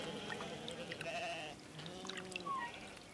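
Sheep bleating at artificial wells in the Australian desert, several wavering calls overlapping at moderate distance, with faint splashing water in the background.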